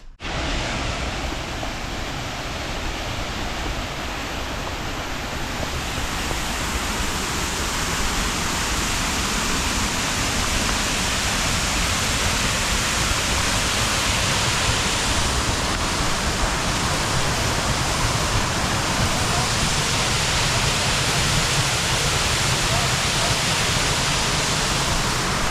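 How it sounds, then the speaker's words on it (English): River water rushing at a makeshift crossing on the Wonderland Trail at Mt Rainier National Park, a loud unbroken broadband roar of churning current that stays steady throughout, with no talking. "we're dealing with a little makeshift river crossing"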